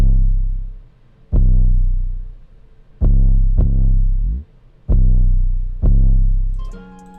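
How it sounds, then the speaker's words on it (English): Booming 808 bass notes from a hip-hop beat hit in a slow, spaced pattern. Each deep sustained tone swells loud and decays, with a short pitch glide between hits. No voices are heard. "808 pattern sounds like this."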